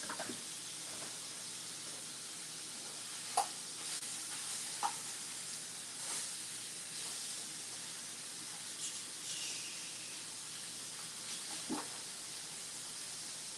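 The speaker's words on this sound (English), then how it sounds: "I don't need to put much of anything in the frying pan when I'm about to cook my steaks" Marinated steaks with a little butter sizzle steadily in a frying pan on a stove, a soft continuous hiss with a few faint clicks and taps, moderately close, no talking.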